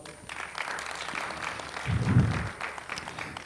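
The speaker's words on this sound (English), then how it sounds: "So let's give him a round of applause." An audience at a youth employment and education event gives the minister a round of applause, soft, scattered clapping with a low thump partway through.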